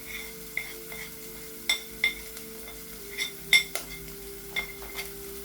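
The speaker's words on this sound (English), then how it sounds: "Give it a quick stir." Paprika, salt, pepper and zira powder are stirred in a pan over a low flame, a spoon clinking against the metal in sporadic taps over a faint sizzle.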